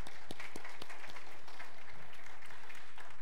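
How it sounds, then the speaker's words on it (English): Church congregation applauding at a Sunday morning worship service, a steady wash of many hands clapping with a few sharper claps standing out, moderately distant and fairly quiet. "you can clap."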